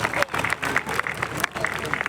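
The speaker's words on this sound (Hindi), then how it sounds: "मुझे उम्मीद नहीं थी कि इतनी भी तालियां बजेंगी" Audience applause rings out at a Holi poetry gathering, a dense, steady wash of many hands clapping close by for the full stretch, with crowd voices mixed in.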